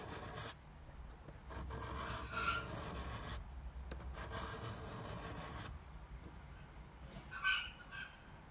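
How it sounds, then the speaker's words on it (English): Steel chisel back rubbed on a 600 grit diamond sharpening plate, repeated gritty back-and-forth scraping strokes in rhythmic passes with brief pauses between them, close and moderately loud. "I then finished off the back of the chisel on the 600 plate to get rid of the burr"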